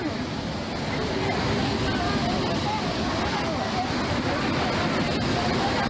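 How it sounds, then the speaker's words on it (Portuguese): A floodwater torrent rushes through town streets during a flash flood in Bandeirantes, Paraná, with a loud, continuous roar of churning water that stays steady throughout, with voices blurred into the noise. "Vídeos feitos com celulares flagraram a força da enxurrada que levou até carros."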